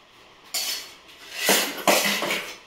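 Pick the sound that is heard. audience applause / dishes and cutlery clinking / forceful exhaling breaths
dishes and cutlery clinking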